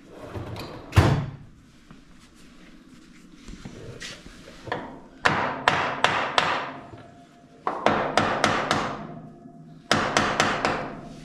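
Several bursts of regular hammer blows on wood during a tear-down, struck in quick runs of four or five sharp knocks separated by pauses, fairly close and loud.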